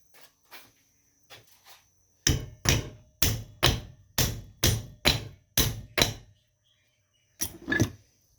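A hammer strikes Massey Ferguson GC2310 front axle parts, with a few light taps giving way to a run of about eight hard, evenly spaced metallic blows and then two final hits.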